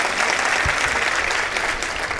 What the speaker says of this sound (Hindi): में एक बार जोरदार तालियां बजाए